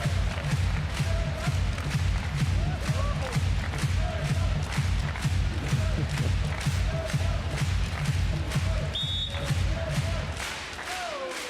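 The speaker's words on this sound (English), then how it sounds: "Crowd enjoying every moment of this" Crowd at a beach volleyball world championship match, cheering and clapping in a steady rhythmic roar that carries on for several seconds before easing slightly, with a commentator talking over it.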